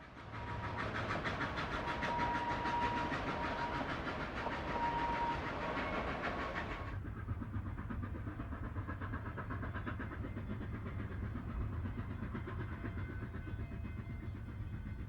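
A K-28 narrow gauge steam locomotive runs with a loud, steady rumble and hiss that drops to a lower, quieter drone halfway through, with no talking.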